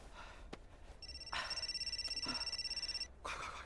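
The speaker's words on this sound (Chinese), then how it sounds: "电话响了。" A telephone rings indoors with a bright, rapidly pulsing electronic trill lasting about two seconds, fairly quiet and heard alone after a few soft knocks.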